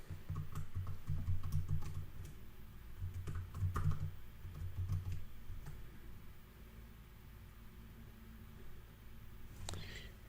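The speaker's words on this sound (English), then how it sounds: "you type your username and your password" Steady typing on a computer keyboard while entering a username and password, a dense run of close key taps and ticks that thins out partway through.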